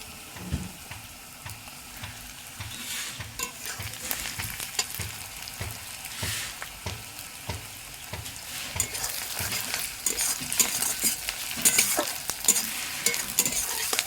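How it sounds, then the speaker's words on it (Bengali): Onions frying in a pan over a small wood-fired stove, a continuous crackling sizzle with rhythmic scraping strokes of stirring, growing busier toward the end. "ঝটপট পেঁয়াজগুলো ভেজে নিই"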